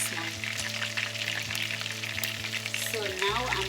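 Chicken wings fry in hot oil with a dense, continuous sizzle and crackle, steady and close, while a low hum runs beneath and a brief rustle of stirring comes near the end.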